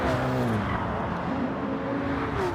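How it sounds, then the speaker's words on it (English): Race cars roar through a chicane in Gran Turismo 7 on the Dragon Trail circuit, engines droning loudly with shifting pitch as cars run close together, a continuous dense racing sound without speech. "Coming up into the first chicane again. I'm hot on Lewis's tail."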